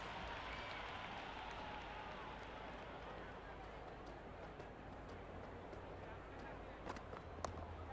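A stadium crowd at a T20 cricket match between India and South Africa roars and applauds in a steady, dense wash of noise. The noise swells slightly near the end.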